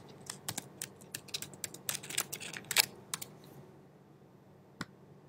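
A token password is typed on a computer keyboard, a quick run of crisp close keystroke clicks for about three seconds, then a pause and one final keypress, with no talk.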